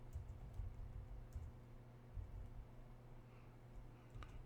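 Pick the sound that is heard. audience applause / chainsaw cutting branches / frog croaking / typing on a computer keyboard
typing on a computer keyboard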